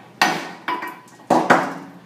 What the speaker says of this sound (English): I'm going to go ahead and put a hammer to so you guys can see the adhesion